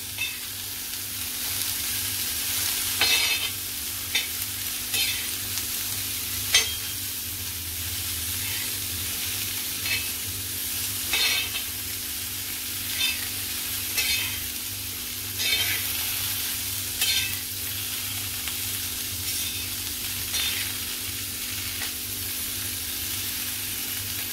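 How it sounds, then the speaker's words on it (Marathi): Small chopped cauliflower pieces stir-fry on a hot tawa with a spiced tempering, a continuous sizzle broken by repeated scraping and stirring clicks, close and alone with no talk. "सगळ्या फ्लावरला ही फोडणी चांगली मिक्स करून घ्या, चांगली लागली पाहिजे।"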